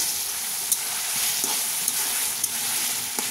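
Mustard greens sauté in oil in a pan with an even hiss and sizzle, broken by a few faint scrapes of stirring, close by with no voices.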